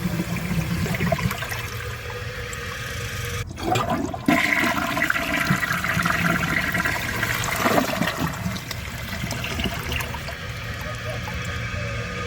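A 1.6-gallon front-flush toilet flushes with a long, loud rush of swirling water that briefly cuts out and then resumes, running on steadily as the bowl refills.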